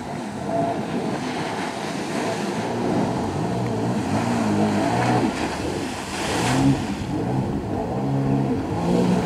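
A Bombardier Recreational Products jet ski (personal watercraft) runs on open water in Latvia, its engine droning steadily and rising in pitch with throttle over wind and splashing surf, with no talking.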